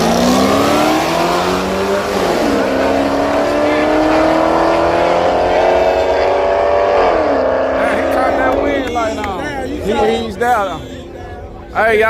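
Drag racing cars accelerate hard down the strip at a grudge race at Yello Belly Drag Strip in Texas, with loud, rising engine roars that climb through the gears and then fade. Spectators shout and talk near the end.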